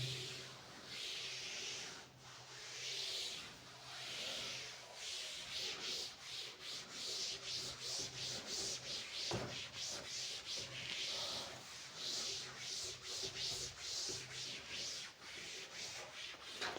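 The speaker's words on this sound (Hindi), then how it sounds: "चलिए इसको करते हैं रब" Chalk or a duster rubbed across a classroom board in a physics lesson, a steady scratchy scrubbing of repeated strokes running throughout, close and moderately loud with no talk.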